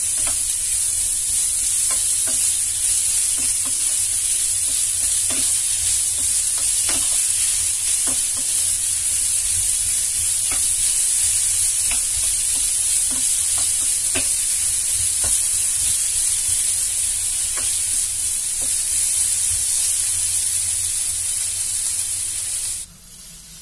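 Potatoes and carrots frying in a pan with a constant loud sizzle and hiss, dotted with faint clicks and stirring taps, running without a break until it cuts off at the end.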